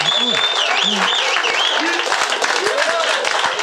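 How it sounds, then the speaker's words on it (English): A stand-up comedy club audience applauds a joke about a traffic navigation app, with steady dense clapping under whistle-like cheers and a voice talking over it. "if you're clapping at the Waze joke"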